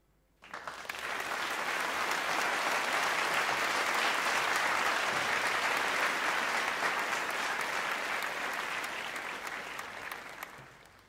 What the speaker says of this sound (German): Dankeschön für diesen warmen Applaus,